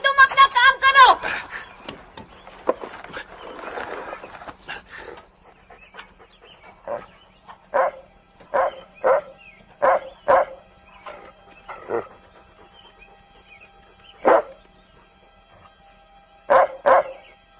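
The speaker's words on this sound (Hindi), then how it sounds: "तू क्यों भौंक रहा है?" A dog barks in a series of short, sharp, loud barks, some closely grouped and others spaced a second or two apart, with a busier stretch of mixed noise at the start.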